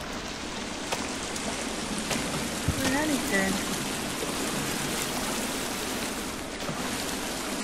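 Running, splashing water in a watery cave in the video game The Forest, a steady wash of stream-like noise with a brief spoken phrase over it.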